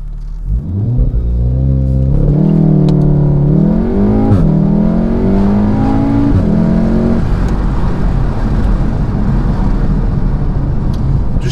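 A Volkswagen Golf R in sport mode accelerates hard, its loud, close engine note climbing steadily and dropping briefly at two gear changes before pulling on, with no talking.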